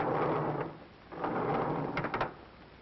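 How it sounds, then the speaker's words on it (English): A roller skate rolls across a hard surface as a 1941 radio sound effect, giving a rumbling glide in two swells, with a brief clatter near the end, fairly faint and without talk. "Oh, that's only a roller skate."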